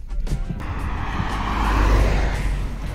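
A Maruti Suzuki Baleno's engine is given light throttle at low revs while climbing, a steady broadband rumble that swells slightly and holds without voices.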